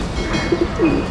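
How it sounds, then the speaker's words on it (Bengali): Khaki pigeons at a pigeon farm coo softly in a short burst, with a few low murmuring calls over a busy background hum and no talking. "এটা হচ্ছে খাকি কবুতর আমাদের এখানে করা"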